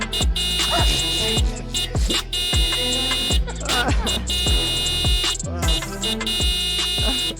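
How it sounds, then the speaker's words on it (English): A rapid run of bright electronic beeps repeats in short bursts over pulsing low thumps, with brief gaps breaking the steady rhythm. "Oh, it's a lot of beeps."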